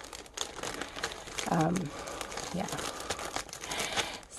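Plastic crinkles and rustles as a small sandwich bag is opened, close up, with a brief word spoken and a quiet voice in the background.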